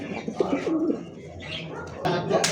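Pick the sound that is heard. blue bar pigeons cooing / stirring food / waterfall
blue bar pigeons cooing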